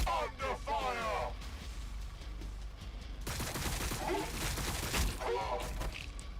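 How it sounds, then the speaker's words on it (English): Bursts of rapid gunfire crackle through a Warhammer 40K Battlesector battle, dense volleys repeating at moderate loudness, with brief voice chatter near the start. "Under fire!"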